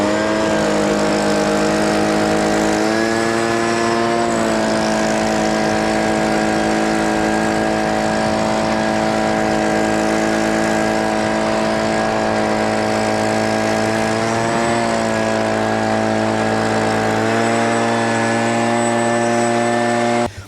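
A Ranger utility vehicle drives up a snowy slope, its engine droning steadily and close throughout, with pitch shifts as it works harder through the snow.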